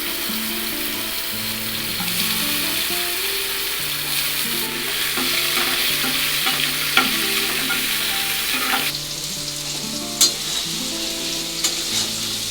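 Mangoes go into hot oil tempered with five-spice, a dried chilli and a bay leaf, giving a steady sizzle with spoon-stirring scrapes and clatters that run throughout, close and fairly loud, with no one talking.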